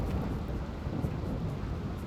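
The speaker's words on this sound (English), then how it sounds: "And now it's raining." Rain and rolling thunder in the colony-building game RimWorld make a steady, dense rumble with a soft hiss, with no voices.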